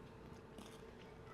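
Biting into the crunchy crust of a sourdough cinnamon roll, with close, crackling crunches and chewing over a steady background hiss.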